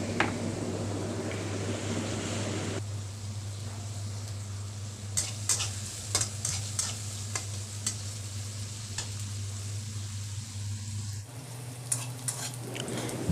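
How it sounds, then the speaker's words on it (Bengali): Onions frying in oil in a pan for a tengra fish bhuna sizzle softly over a constant low hum, with a run of sharp stirring clicks and scrapes in the middle. "পেঁয়াজ ভাজতে ভাজতে যখন দেখব এরকম একটু বাদামি রঙের হয়ে আসছে"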